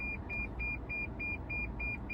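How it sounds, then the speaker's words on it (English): A 2014 Toyota Camry Hybrid's parking proximity sensors give a rapid series of evenly spaced electronic beeps, repeating steadily at a quiet level over a low hum. "that beeping we hear there is just those proximity sensors working"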